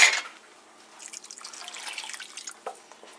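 Cornstarch and water slurry pours into a slow cooker of sweet orange chicken sauce, a soft liquid trickle with light dripping after a brief clatter at the start, close and fairly quiet.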